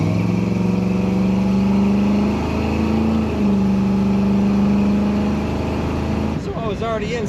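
A 1965 Chevrolet Malibu two-door hardtop's engine roars loud and close as it accelerates hard, holding a strong rising drone, briefly dipping at a shift, then easing off before a voice speaks at the end.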